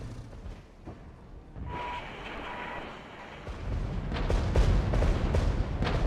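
Off-map artillery strikes land in the war strategy game Regiments, quiet at first and then swelling into a rumbling barrage of deep booms with sharp cracks layered on top.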